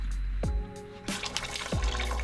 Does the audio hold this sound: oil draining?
yes